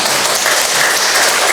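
A church congregation breaks into dense, steady applause, loud and close, with many hands clapping together continuously.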